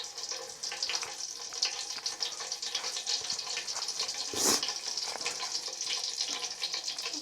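Bay leaves, cinnamon and black cardamom crackle as they hit hot oil for mutton biryani, a steady close sizzle with a brief sharper burst midway and no voices.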